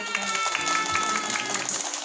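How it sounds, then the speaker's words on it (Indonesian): Kindergarten children clapping together in a studio on an Aceh TV morning show, a bright, busy patter of many small hands lasting a couple of seconds, with voices mixed in. "Mana tepuk tangannya?"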